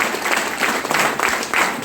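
Audience clapping at a business meeting in Kaziranga, a brief moderate burst of many hands with uneven pulses of louder claps.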